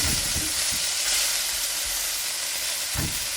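Chicken breast sizzles steadily in hot olive oil in a pan over medium-high heat, a loud continuous close-up hiss with a few soft thumps as pieces are moved.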